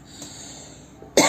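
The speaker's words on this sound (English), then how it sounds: "I still have cough." A single sharp cough bursts out near the end, close and loud after a stretch of quiet room noise.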